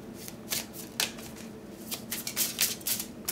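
Tarot cards shuffled and dealt by hand, a run of crisp riffling and slapping bursts close to the microphone with no talk.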